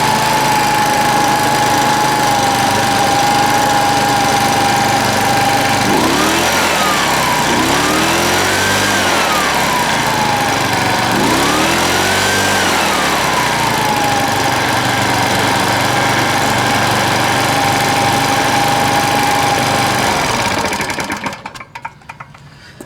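A Shindaiwa backpack leaf blower engine runs at half choke with a loud, steady buzzing drone that swells and sags in revs a few times before cutting off at the end.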